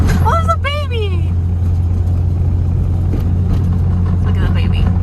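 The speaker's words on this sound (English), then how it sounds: "I'm sorry, but my car's loud." A loud Nissan 350Z engine idles with a steady low rumble throughout, close by, while people talk over it.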